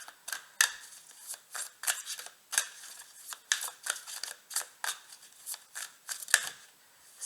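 Tarot cards shuffled and dealt out one by one, a series of close, crisp papery flicks and slaps in an irregular rhythm with short pauses between, no voices.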